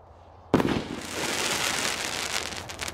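Firework rockets set off outdoors: a sudden sharp bang after a brief quiet, followed by a sustained crackling, sizzling burst of smaller pops fading slightly toward the end.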